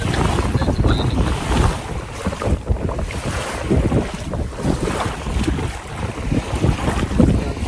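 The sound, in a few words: water lapping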